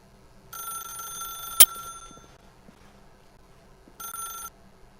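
A telephone in The Stanley Parable rings in two separate bursts with a sharp click between them, clear and up front against a quiet background.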